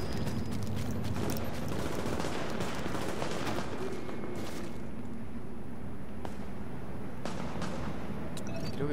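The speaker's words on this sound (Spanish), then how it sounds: "Escucho un rifle. No sé si será NPCs peleando con NPCs o si hay gente." Rifle gunfire rings out in The Division, a shooter video game, as dense, sustained bursts of shots and sharp cracks that run through the whole stretch, loud and continuous with no talk.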